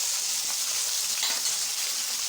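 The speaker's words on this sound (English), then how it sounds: "Now add it to the jeera that is fried" Onion paste hits hot oil and fried cumin in a pan, giving a steady, loud, close sizzle and crackle that runs unbroken throughout.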